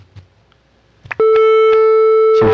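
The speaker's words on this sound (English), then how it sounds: "So here's a sine wave." A pure synthesized sine wave tone generated through the browser's Web Audio, sounding as a loud, steady, unwavering pitch that starts abruptly after a few faint clicks and soft background noises and holds for over a second.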